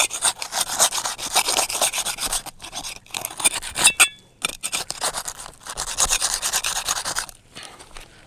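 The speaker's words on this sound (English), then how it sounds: "I'm going to loosen the shingles that are adjacent to it, to the left and the right, and then 2 above it" Roof shingles loosened with a tool worked back and forth beneath them, a close, loud rhythmic scraping and rasping in repeated bursts with brief pauses.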